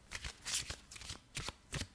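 Angels of Star Avalon oracle cards being shuffled by hand, several quick riffling bursts in a regular rhythm, close and fairly quiet.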